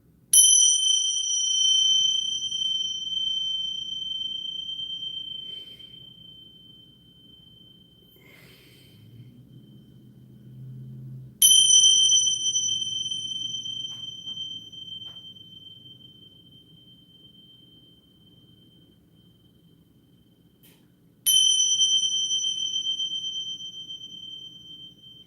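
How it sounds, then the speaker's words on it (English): Chinese chimes struck three times at roughly ten-second intervals, each bright ringing tone sharp at onset and slowly decaying, over a low steady hum. "I have these like Chinese chimes that I love."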